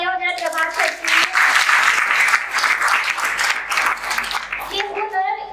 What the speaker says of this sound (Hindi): तो एक बार फिर से जोरदार तालियां हो जाए जवाब सर के लिए।